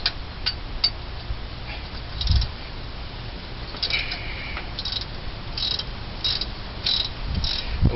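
Ratchet loosening half-inch bolts holding the fan on a 1978 Continental Mark V with a Ford 400 engine, sounding as quick bursts of clicking pawl strokes separated by brief pauses, close and fairly quiet against a light hiss.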